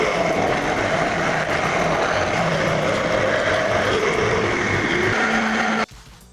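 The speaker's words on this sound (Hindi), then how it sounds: "इसे बंद करेंगे और मिक्सर से ग्राइंड करेंगे।" An electric mixer grinder blends mango, banana, lemon, sugar and water with a loud, steady whirring motor for several seconds before abruptly switching off.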